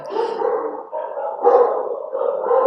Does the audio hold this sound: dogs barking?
yes